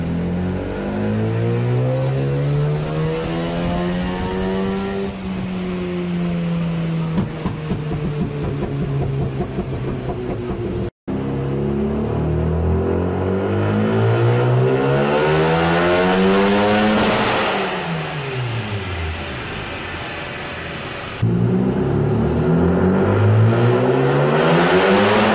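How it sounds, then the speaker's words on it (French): A Mazda RX8 drift car, its engine swapped to an RX7 unit, revving hard on a dyno: repeated loud sweeping rises and falls of a buzzing rotary engine, held near and dominant with brief cuts between pulls. "il faisait des grandes accélérations, on voyait que ça montait bien franchement, ça faisait un bruit mais de l'enfer"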